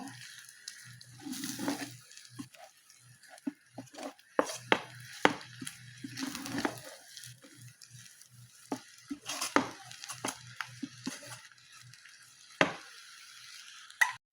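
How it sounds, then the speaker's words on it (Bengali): Noodles with tomato and salt are stirred in a pan, with repeated scraping and knocking of a spatula against the metal in an irregular rhythm over a soft sizzle, heard close and alone. "আমি এখন লুডুসটা ডাইলা নিমো আর এই যে লবণটা ভালো করে মিশিয়ে নিমো"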